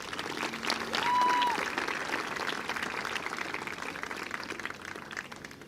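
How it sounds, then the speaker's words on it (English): Applause and cheering from an audience at a Grade 12 graduation ceremony swells briefly then settles into steady clapping, fairly soft and distant. "I got a cheer, that was nice."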